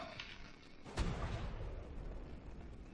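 Gunfire in the video game ARK: Survival Evolved, a sharp loud burst followed by a sustained rumbling, crackling barrage that keeps going with several fainter pops.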